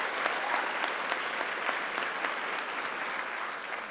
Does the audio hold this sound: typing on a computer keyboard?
no